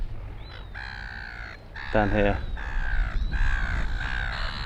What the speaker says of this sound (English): they're having a territorial battle, those seagulls